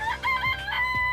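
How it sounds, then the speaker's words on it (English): A chicken crows in a Danganronpa game, a short loud rooster call with clucking tones, heard close and clear with no speech. "It's a chicken."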